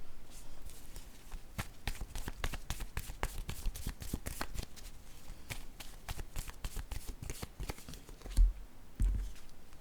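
Oracle cards riffled and shuffled by hand, a dense run of quick papery flicks and slaps with brief pauses, close and fairly loud, ending in a couple of heavier taps as cards are drawn and laid down.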